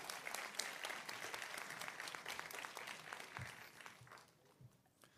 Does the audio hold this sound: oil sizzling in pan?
no